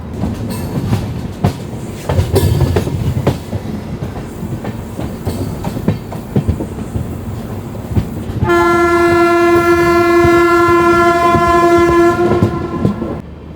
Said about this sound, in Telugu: మన ట్రైన్ అయితే నాంబూర్ స్టేషన్ నుంచి డిపార్ట్ అయిపోయిందండి